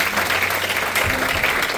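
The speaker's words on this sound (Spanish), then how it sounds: "Dale un fuerte aplauso." A church congregation breaks into strong, steady applause during a sermon, a dense burst of many hands clapping together through the whole short moment.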